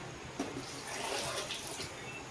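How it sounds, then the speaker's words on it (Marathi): Hot water poured into half a kilo of rice in a pressure cooker for mushroom pulao, a steady close splashing pour running the whole moment without pause. "गरम पाणी ओतलंय."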